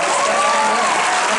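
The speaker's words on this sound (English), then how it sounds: "Yeah, that deserves applause." Brief burst of dense applause from an audience at a Hocus Pocus anniversary fan panel, a loud continuous roar of clapping with a faint crowd murmur.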